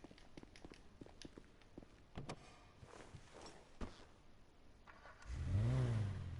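An Elegy car engine in a video game roars up near the end, a loud rising rev that follows a few scattered light clicks and steps.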